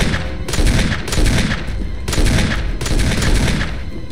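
Rapid bursts of gunfire from the Resident Evil HD remake, loud and dense, arriving in several clustered volleys with brief gaps between them and no talk over it.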